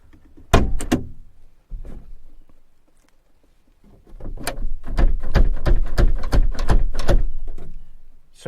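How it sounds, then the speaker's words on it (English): A van's rear door secured from inside with an installed locking pin is tried: a couple of early thunks, then a rapid series of loud rattling knocks and clunks as the door is pulled against the pin, with no voices. "I'm going to try to attempt to open the door"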